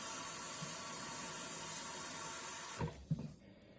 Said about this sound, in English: So I'll add some water